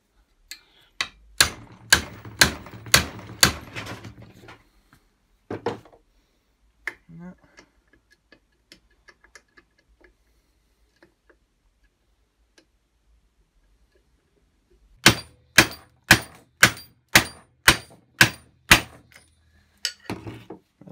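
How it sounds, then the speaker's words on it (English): Sharp, evenly spaced metallic taps strike angle grinder bearings on a JCB grinder, a burst of about seven blows, a long near-silent pause with a few faint knocks, then another run of about seven taps, close and distinct. "That is pounding on the bearings, but it's not moving the bearing race at all."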